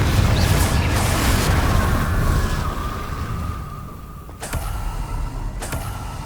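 A Confringo explosion spell cast in Hogwarts Legacy is heard as a loud booming blast with a sweeping whistle that fades, followed by a sharp crack and further rumbling.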